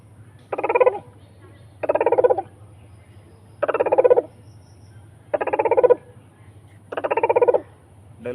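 A voice imitates the call of the dahuk, or white-breasted waterhen, with five evenly spaced, throaty croaking bursts, each about half a second long and separated by short pauses.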